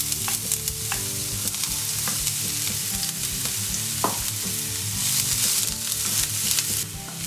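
Half an onion sizzles in a little oil in a pan, a steady close frying hiss with occasional clinks and scrapes of stirring, no voices.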